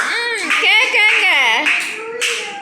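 Hands clap in a few bursts during a neighbor child's birthday celebration, mixed under loud, close voices singing a birthday song.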